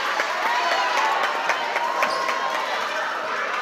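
Crowd noise at a high school volleyball regional final game, a steady, dense roar of voices and cheering filling the gym, with a few sharp claps and shouts standing out through the continuous din.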